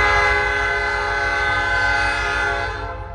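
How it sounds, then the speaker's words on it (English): A freight train pulled by three locomotives rumbles past close by on a short line railroad in Cincinnati, with a loud, steady engine drone and wheel noise throughout that eases slightly toward the end. "This has gotta be a good train to need all three locomotives."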